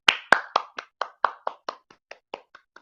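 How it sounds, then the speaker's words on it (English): A single person claps hands about a dozen times in a steady rhythm, sharp close slaps that gradually soften toward the end, with no other sound between them. "I had to give myself a round of applause"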